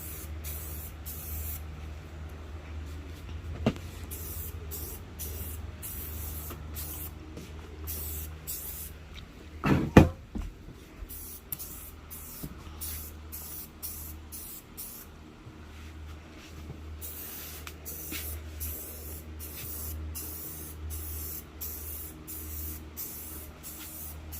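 An aerosol spray can lays down second and third coats of paint on a plastic part, a steady soft hiss broken into many short bursts with brief pauses, fairly quiet and close.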